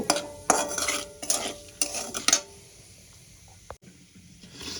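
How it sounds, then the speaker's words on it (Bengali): Whole cumin and bay leaves fry in hot oil as a tempering, with several sharp bursts of spoon-stirring scrapes over a soft sizzle that then settles to a quieter hiss. "ফোড়নটা আমি একটু ভেজে নেব"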